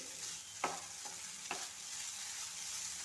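Cooked vermicelli stirred in a pan, a soft low sizzle with two distinct scrapes of a spoon against the metal, quiet and close, no voices.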